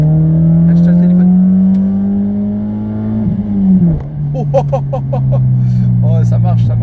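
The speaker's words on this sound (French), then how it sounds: "c'est une Mazda 6. Moteur 1 litre 8, 120 chevaux, moteur Atmo, pas de turbo" Mazda 6 with a 1.8-litre, 120 hp naturally aspirated petrol engine, no turbo, revving close up: a steady drone climbs, drops sharply, then settles lower, with short bursts of voices over it.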